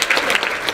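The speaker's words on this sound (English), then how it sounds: "we just want to acknowledge and applaud them" An audience applauds FIP faculty graduates at El Camino College, a brief burst of dense, loud clapping from many hands.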